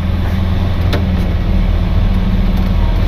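A 100-year-old car's engine runs loud and close under throttle, a steady dense low rumble with no break and no voices.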